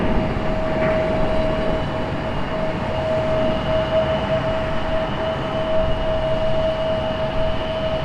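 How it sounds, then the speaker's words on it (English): An Alaska Airlines jet airliner takes off from the runway at Raleigh-Durham International, a steady broad engine roar with a thin whine, held evenly and moderately distant for several seconds with no talking. "Alaska's getting ready to pass us here in just a moment. And Alaska is off the runway."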